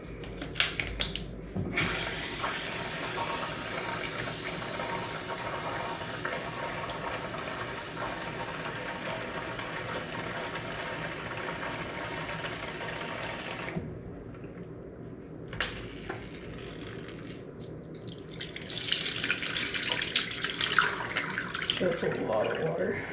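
Tap water runs steadily into a water balloon at a sink, a continuous hissing gush that stops partway through, followed by quieter handling and a brief renewed splashing rush.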